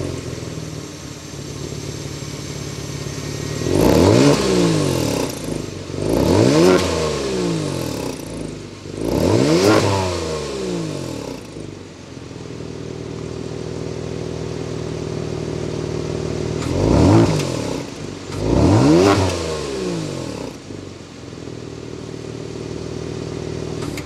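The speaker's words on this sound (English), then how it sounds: "the best part about a twin turbo engine is hearing that exhaust note" A Kia Stinger GT's twin-turbo engine fires up and is revved hard three times in a row, settling to a deep idle, then two more sharp revs; close and loud.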